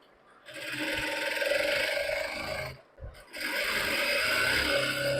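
A sewing machine stitches a lungi hem in two steady bursts with a short pause between them, loud and close, with a whirring mechanical drone throughout.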